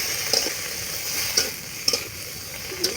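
Fish pieces being stirred with turmeric as they fry in a pan, giving a steady sizzle with several distinct scraping stir strokes spaced through the clip.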